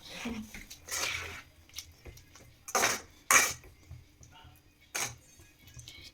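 Food being mixed in a cooking pot, with a few separate loud clanks and scrapes of utensil on metal set among quieter rustling and a faint background voice.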